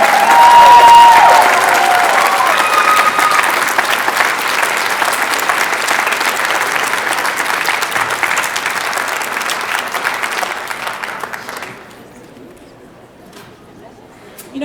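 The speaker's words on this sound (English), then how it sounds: "please give a great big ACI round of applause for a living legend, Carol Duvall" Loud, sustained audience applause at the Creativation 2020 awards ceremony for a craft-industry legend, steady broadband clapping for about eleven seconds before thinning out and fading to a quiet room.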